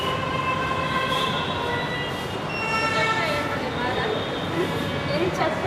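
A Hyderabad metro train rumbles steadily along the track, heard from inside with a continuous hum and faint squealing tones, while people talk over the running noise.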